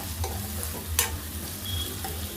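Baby potatoes frying in oil with ginger and garlic for a kurma, a steady close sizzle with a sharp clink of a utensil near the middle, no voices.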